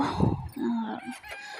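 Desi hens kept in a room of a shed make a few short, close clucks and calls in quick succession, with faint rustling around them.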